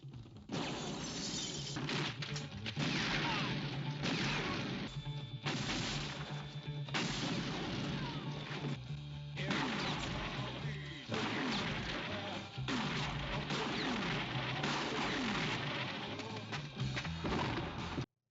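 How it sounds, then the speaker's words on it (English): Movie gunshots from the thriller Manhunter crack out in a dense, rapid series of sharp bursts with short gaps between volleys, loud and harsh over a continuous soundtrack. "These gunshots sound terrible."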